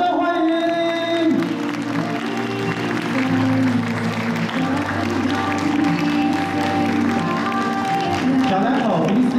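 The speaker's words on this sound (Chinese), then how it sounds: "接下来让我们用热情掌声来欢迎我们的司机跟家如一起进场上台" Wedding guests clapping as the couple enters, steady applause under loud live music with sustained tones and a rhythmic beat, crowd noise continuing throughout.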